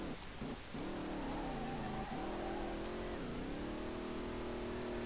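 A Nissan 350Z with a swapped VR38DETT engine revs in the SLRR driving game, a loud sustained drone that rises and falls through several throttle swells, unbroken by talk.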